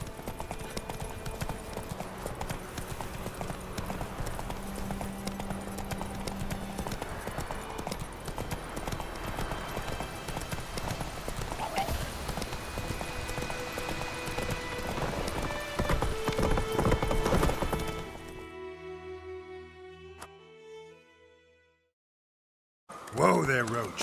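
A horse galloping in the Witcher 3: Wild Hunt video game, with loud rhythmic clip-clop hoofbeats running steadily under game music and a voice talking. The hoofbeats end, followed by a short silence.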